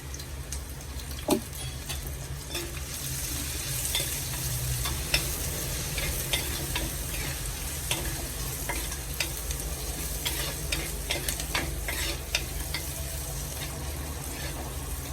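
Halved green chilies sizzle steadily in hot oil in a pan, with the occasional stir and scrape of a spoon, close up, with no talk.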